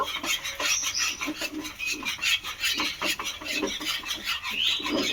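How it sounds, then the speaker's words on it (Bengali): A spoon stirs sugar into a thick flour and milk mixture in a pan, producing rhythmic scraping and rubbing strokes that repeat steadily and close up, with no talking. "চিনিটাকে খুব ভালো করে মিশিয়ে নেব।"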